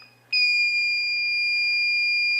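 Straight Talk remote alert device sounding its panic alarm indoors, a continuous high-pitched electronic tone that starts abruptly and holds steady at moderate volume, close by, with a faint low hum underneath.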